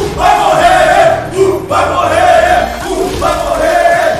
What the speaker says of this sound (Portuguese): A torcida vai à loucura no Fight Rio.